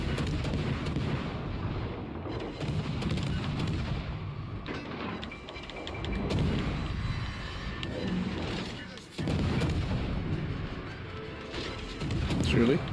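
Ship guns on a Kitakaze destroyer fire in World of Warships Legends as a run of heavy, booming shots and impacts at irregular intervals, mixed with battle noise and a player talking over it.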